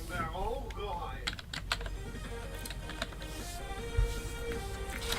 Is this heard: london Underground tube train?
no